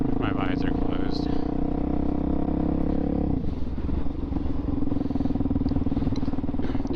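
A Suzuki DRZ400SM with an MRD Z-PRO exhaust rides along, its steady engine drone and exhaust rumble loud and continuous under wind buffeting from a helmet-mounted position, the pitch shifting slightly midway as the rider changes speed.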